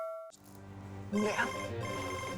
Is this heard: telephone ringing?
yes